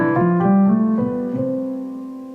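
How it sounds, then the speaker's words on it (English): A major scale is played as a quick run of sustained, tonal notes that step upward one after another. The last note rings out and slowly fades, with no voice present. "That's the major scale."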